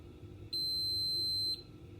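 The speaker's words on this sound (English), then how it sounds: "Listen for the beep." Dishwasher giving a single high electronic beep as its cleaning cycle starts, one clear tone lasting about a second over a faint background hum, with no talking.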